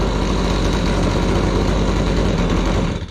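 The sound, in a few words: gas-powered Razor dune buggy engine revving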